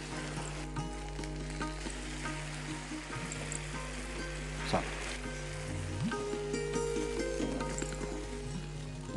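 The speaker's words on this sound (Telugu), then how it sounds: "వాటర్ యాడ్ చేయాలి." Mutton gravy sizzling and frying in a pan as water is poured in, a steady close hiss with stirring clatter and a brief splashy burst partway through, no speech.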